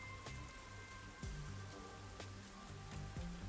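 Rain falling in the video game Master Detective Archives: Rain Code, a soft continuous patter on surfaces with scattered sharper drips and a faint low tonal hum beneath, quiet and even throughout.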